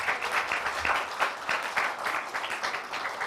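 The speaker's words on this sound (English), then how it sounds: "I think we can clap for you once again." An audience breaks into sustained applause at a medical talk on breast cancer care, many hands clapping together in a dense, steady patter that carries on throughout without speech.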